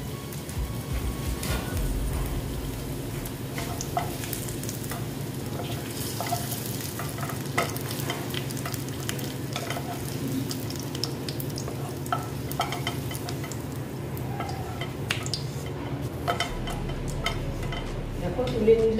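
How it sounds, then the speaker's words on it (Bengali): Okra frying in oil in a home kitchen pan, a soft steady sizzle with repeated spatula scrapes and taps of stirring throughout, close and moderately quiet. "দেখো এটা আমার ভাজা প্রায় হয়ে গেছে"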